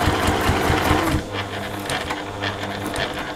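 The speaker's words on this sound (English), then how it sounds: "So just come along that top edge." A sewing machine runs steadily, stitching along the top edge of a fabric wallet, its motor buzz close and continuous with a brief easing of speed partway through.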